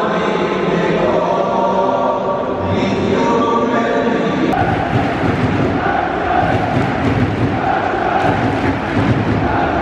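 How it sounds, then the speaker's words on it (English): Football fans sing together in a stadium shortly before kickoff at a Nice versus Metz match, a loud sustained crowd chant rolling on throughout, with muffled voices and a sharp knock partway through. "There is a fan base over here. You can hear them singing up there."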